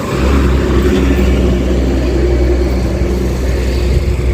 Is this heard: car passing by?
yes